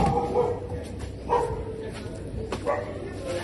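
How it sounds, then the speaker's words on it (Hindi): Several dogs in the neighbourhood bark in scattered short bursts at a middle distance, mixed with outdoor background noise and someone talking over them. "आपको बहुत सारे कुत्ते की आवाज आ रही होगी"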